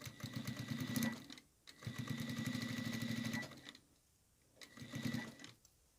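A sewing machine stitches fabric for a kitchen oven mitt in three rapid, steady bursts of close, buzzing needle chatter, separated by short pauses.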